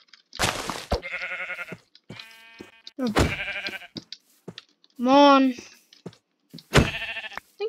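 Several short sheep bleats from the Minecraft video game, one long wavering bleat standing out, interleaved with a person talking and a few soft clicks.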